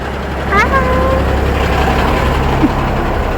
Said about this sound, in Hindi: गाइस यहाँ पर ट्रैफिक लग चुका है